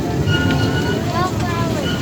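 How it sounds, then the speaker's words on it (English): The Pineapple Express tour train at the Dole Plantation rolls steadily along its rails, a loud, close, continuous rumble and rattle with faint wheel squeals, and voices murmur beneath it. "This 2-mile, 22-minute train ride will take you through a working plantation of pineapple and other crops"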